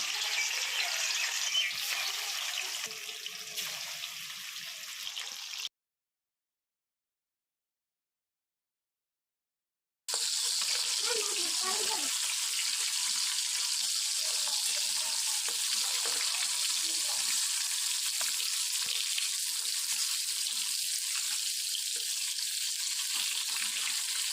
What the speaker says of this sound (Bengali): ওই তেলের মধ্যেই আমি কাতলা মাছগুলো ভেজে নিচ্ছি।